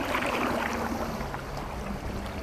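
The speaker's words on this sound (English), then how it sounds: "you can get busy with the paddle to speed up and steer" Paddling a boat across Arctic water in a National Geographic VR game, with a steady wash of splashing and swirling water close by, fairly loud and continuous, without voices.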